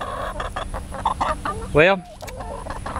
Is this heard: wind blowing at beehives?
no